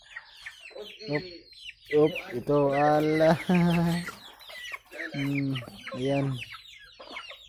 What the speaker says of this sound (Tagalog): Naghihintay pa yung mga kasama ko. Oh, mga kasama kong manok.